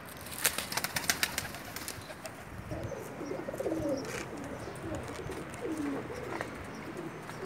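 A pair of Pakistani pigeons in Jeddah, Saudi Arabia coo in soft, low, rolling phrases close by, with a few sharp clicks and flutters early on and a faint background hiss, no voices.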